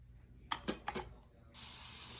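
A few crisp spritzes from a spray bottle wetting hair during a perm, then a longer steady hiss of spraying, close by with no talking.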